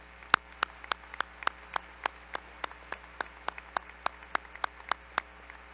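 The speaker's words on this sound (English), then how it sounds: "Let's give our staff a round of applause." A round of applause for the school staff at a high school graduation ceremony, with sparse, evenly spaced single claps repeating steadily, sounding thin and somewhat distant in a large hall.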